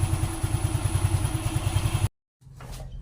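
A steady, rattling engine clatter from a Yamaha Mio Soul scooter with a faulty starter bendix, running close for two seconds, cutting off abruptly, then a faint thump and low rumble.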